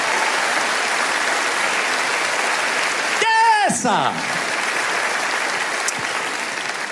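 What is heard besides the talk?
church congregation applause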